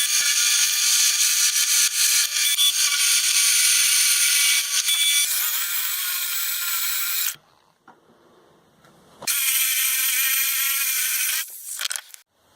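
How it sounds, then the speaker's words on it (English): A drill press whines loudly and steadily while drilling holes, cuts off into near silence for a couple of seconds, then starts up again with a high grinding drone. "I think I'm going to try and drill these holes in the drill press though this time."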